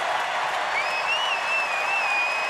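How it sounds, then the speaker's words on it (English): A sold-out home crowd at Gonzaga's Kennel cheers and applauds after a three-pointer in a women's March Madness game, a steady roar of clapping with a few high whistles rising above it. "Crowd's going nuts."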